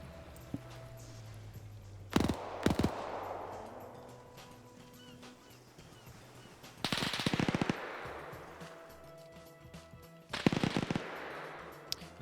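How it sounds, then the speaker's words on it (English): Machine gun fire exchanged in a multiplayer video game battle, heard as three separate, sharp, rattling bursts spread apart in time over a quiet background hum. "Now you got some fire going back and forth."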